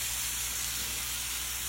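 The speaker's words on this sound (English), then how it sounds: "Yeah, it's gonna be sizzling." A flour roux in a hot pan sizzles as milk is slowly poured in, giving a steady, even hiss that holds at the same level throughout.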